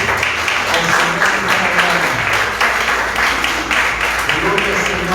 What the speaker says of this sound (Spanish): Dar un aplauso fuerte al Señor